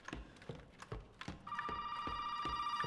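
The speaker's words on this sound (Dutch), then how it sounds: "Waar is die telefoon ook weer?" A telephone rings in the horror game Resident Evil 7, a steady bright electronic ring starting halfway through after several dull thumping footsteps.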